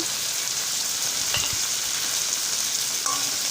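Puffed rice and tomato sizzle steadily in a hot pan with fried peanuts while a utensil scrapes and stirs through it a couple of times.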